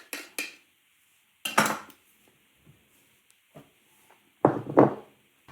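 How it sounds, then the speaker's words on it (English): A knife trims the pastry edges off a pie dish, giving a few sharp clacks and scrapes against the dish in short separated bursts, close and clear with quiet gaps between. "I'm going to cut the edges off"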